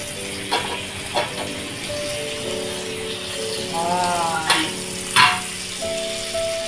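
Bangda mackerel frying in a pan, a soft steady sizzle with a few sharper pops and crackles scattered across it, close and fairly quiet, no talking.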